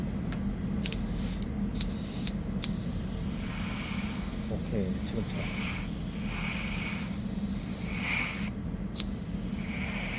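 Short hissing bursts of an airbrush spraying paint onto a plastic Nendoroid figure, with steady background noise and a few quiet words spoken between the sprays.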